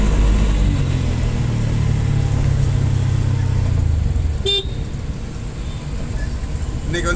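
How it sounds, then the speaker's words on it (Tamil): Light road traffic on an overcast day, a steady near roar of passing cars and engines with a brief horn toot partway through and another faint one at the end. "இன்னைக்கு டிராஃபிக் ரொம்ப கம்மி."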